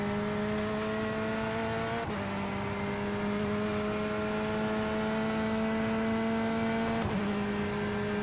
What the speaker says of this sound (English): Yeah, it's the Corvette GTE.